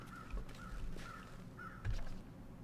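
Several crows call with harsh caws spaced across a few seconds, fairly faint and somewhat distant, over a low quiet outdoor background with a soft thump or two.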